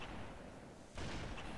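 A single gunshot from a sniper rifle in the video game Halo: one sudden blast cuts in midway and rings out over a low, rumbling game soundscape.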